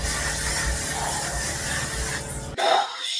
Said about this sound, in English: I'm going to go ahead and fix it with the Reddish fixing spray.